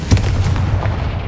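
A Confringo fire-blast spell explodes in the Hogwarts Legacy video game, a loud booming burst with a sharp onset followed by a sustained low rumble, with no talking.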